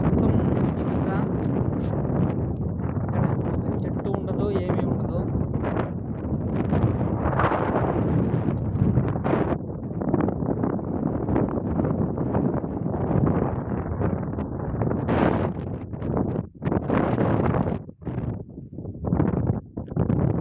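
Strong dust storm wind blowing in Kuwait, a loud continuous roaring rush buffeting the microphone with gusty surges and rustling throughout.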